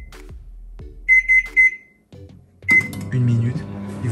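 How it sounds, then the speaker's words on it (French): A microwave oven heating a glass of milk gives a few short electronic beeps as it is started, then its hum begins, with a person speaking around the beeps. "Prenez un verre de lait, vous mettez au micro-ondes, tac."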